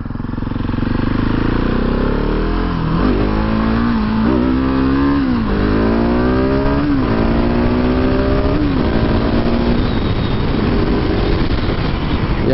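A Husqvarna 701 Supermoto with an Akrapovic exhaust accelerates loudly through several rising gear pulls, each ending in a short dip at the shift. The engine is close and steady, and no one speaks.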